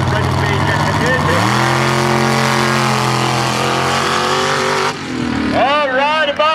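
Mud racing vehicle on nitrous revving hard at the start line, a loud sustained engine roar that climbs in pitch, then drops off and surges again in rising revs.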